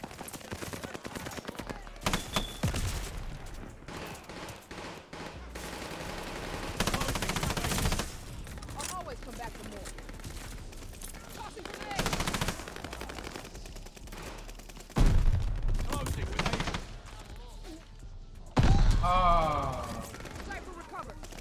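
KG M40 rifle fire in Call of Duty Vanguard gameplay, repeated rapid automatic bursts of varying length with game effects between them, while a player talks over the action.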